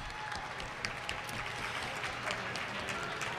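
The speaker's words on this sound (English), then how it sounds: "why don't we give them a big round of applause?" A crowd at an outdoor park picnic event claps steadily throughout, a dense, continuous round of applause of moderate loudness.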